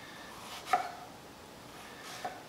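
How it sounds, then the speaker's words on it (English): A kitchen knife slices thinly through fresh strawberries on a board, two soft, crisp cuts about a second and a half apart, close and quiet. "the key is just basically properly cutting the strawberries"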